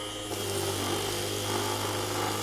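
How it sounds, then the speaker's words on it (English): Budget Amazon 20V brushless orbital sander running on low against a 2x4, giving a steady close hum with a constant drone and faint whine, no voices. "let me turn this on and get it to the correct RPM. So that's going to be on low."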